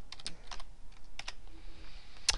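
Quick keystrokes on a computer keyboard while working in an Excel spreadsheet: a few short, sharp clicks in small bursts with pauses between, close and fairly quiet, no voices.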